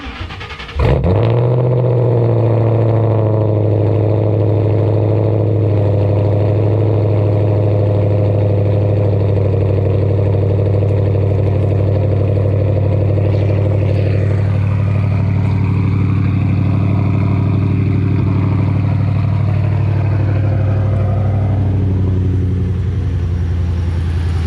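A race car engine cranks over and fires, then settles into a loud, steady low rumbling idle that runs alone for over twenty seconds with slight changes in revs.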